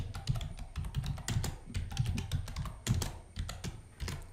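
Typing a password on a computer keyboard, a quick uneven run of close, crisp key clicks and thumps with no talking.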